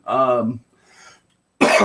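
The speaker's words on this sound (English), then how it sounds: "He will cough a little bit" A man coughs and clears his throat indoors, with a voiced cough at the start, a brief quiet gap, then another rough burst at the end.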